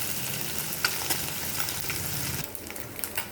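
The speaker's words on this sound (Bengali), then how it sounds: "মাছটা শুধু নুন হলুদ দিয়ে ভেজে নিলাম।" Morola fish seasoned only with salt and turmeric frying in hot oil, a steady close sizzle with a few sharp spits and pops, easing slightly toward the end.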